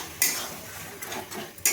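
A spoon scrapes and clatters in a pan while stirring mourala fish curry, with two sharp scraping strokes near the start and end and a soft bubbling simmer between them.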